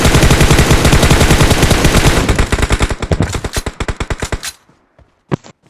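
Rapid automatic gunfire in the shooter game PUBG Mobile, a loud dense burst of shots that thins into spaced rounds and fades, then a couple of faint clicks.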